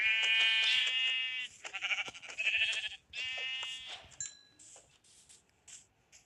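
Several Minecraft sheep bleat in quick succession, clear wavering cries close by, followed by a few short clicks and softer sounds.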